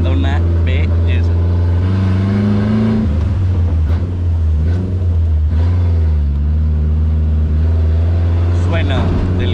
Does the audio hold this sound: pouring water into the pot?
no